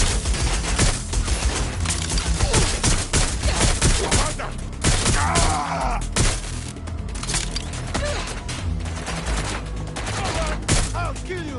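Rapid gunfire crackles in Watch Dogs, with dense volleys of loud overlapping shots and impacts through most of the stretch, over busy game sounds.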